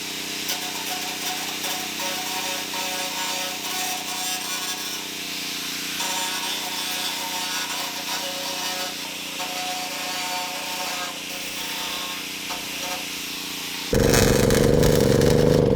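Power tool cutting off a small tin piece of metal at a ranch, a loud continuous grinding roar with rough rasping texture, rising louder at the end.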